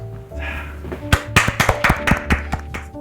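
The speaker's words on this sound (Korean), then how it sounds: "박수 한번 해주시면서" Scattered hand claps start after a moment, a handful of people at a church gathering clapping unevenly at close range for a couple of seconds.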